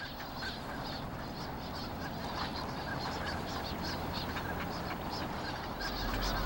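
Migratory waterbirds gather on Bamseom, a sandbar island in the Han River in Seoul, and call over a dense, steady wash of noise, with goose-like honks and quacks repeating continuously.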